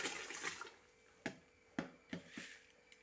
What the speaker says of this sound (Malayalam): നമ്മുടെ വെള്ളം തിളച്ചിട്ടുണ്ട് ഇതിലേക്ക് നമുക്ക് അരി ഇട്ട് കൊടുക്കാം